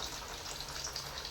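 Potato and semolina snacks deep-frying in hot oil, a short burst of steady bubbling hiss with fine crackle, even and close, no voices.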